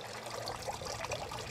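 Water from a newly installed landscape fountain spills out the top and trickles steadily, a close, continuous splashing burble with no talk over it.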